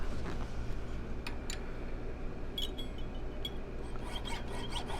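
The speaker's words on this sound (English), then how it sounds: "I'm going to cut my tubing after I get my saw blade in here" A small jeweler's saw cuts through metal tubing for spinner beads, a steady close rasping stroke that runs continuously with a few faint ticks and taps along the way.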